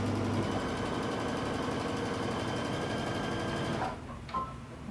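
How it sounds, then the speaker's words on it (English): A sewing machine stitches a tunic seam with a steady, fast mechanical whir and rhythmic needle chatter, close and even, then stops abruptly, leaving a few faint handling clicks. "and then I'm going to continue sewing"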